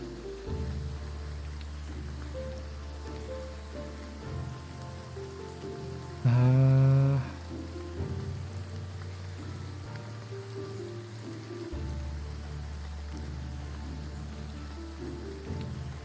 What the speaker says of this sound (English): It is raining heavily.